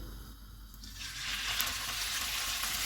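Loud, steady sizzling as beef keema hits hot oil, a hiss that swells after a quieter start and continues without talk.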